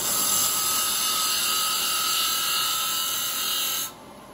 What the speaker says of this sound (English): turn the lathe speed up high